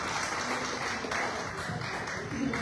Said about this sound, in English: Let us clap our hands to the Lord.